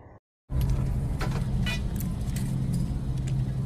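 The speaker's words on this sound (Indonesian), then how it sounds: "Tiba-tiba muncul mobil di hadapannya, langsung menabrak dan menghancurkan tempat telepon." A car smashes into a phone booth in an action film scene, heard as a sudden loud crash bursting in after a brief silence, followed by sustained roaring engine and debris noise throughout.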